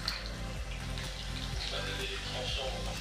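Schweppes tonic pours steadily into a Suze tonic cocktail, a continuous liquid splash and fizz at close range lasting a few seconds.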